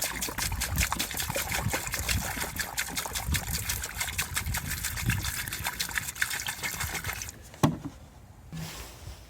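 Antifreeze pouring and trickling into swimming pool plumbing during winterizing, a continuous close liquid stream with bubbling, then tapering off near the end with a sharp knock.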